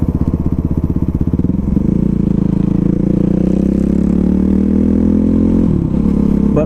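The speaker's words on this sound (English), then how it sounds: "I don't know how I feel about this muffler, this exhaust. It's just way too loud for my fucking taste." A Kawasaki KLX300SM or Suzuki RMX450 dirt bike with a loud aftermarket muffler accelerates hard, its exhaust note steady and close with one gear change near the end.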